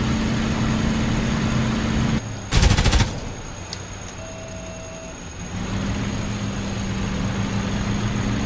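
A burst of machine gun fire strikes a P-51 Mustang in a DCS flight sim, a short loud rattling volley cutting over the steady drone of the aircraft engine, which dips and then returns.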